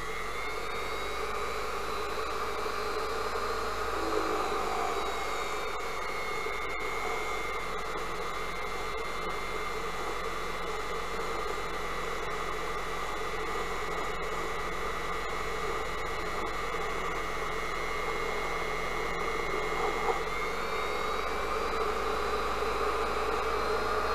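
Unimat SL1000 lathe turning O1 tool steel at 1,000 RPM, a steady continuous whine and hiss of motor and cutting with faint tonal bands, holding level throughout with no talk.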